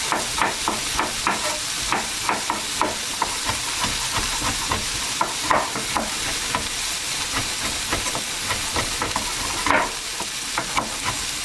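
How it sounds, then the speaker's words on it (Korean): Minced onion and cooked ground pork stir-fried in a frying pan give a steady, close sizzle and hiss, broken by frequent scraping and tapping strokes of a utensil against the pan. "잘 다져진 양파를 익은 다진 고기가 있는 프라이팬에 넣고 볶아주세요."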